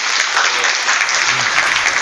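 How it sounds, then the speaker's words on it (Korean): Audience applause fills a Korean public talk event in Incheon, a dense, steady wash of clapping from a seated crowd lasting the full two seconds, loud and close. "여러분 박수로 해주셔서"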